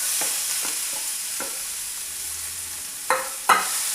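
Cooked horse gram tipped into a pan of popping mustard seeds and curry leaves, giving a steady sizzle with scattered crackles and two louder pops near the end, with no voices.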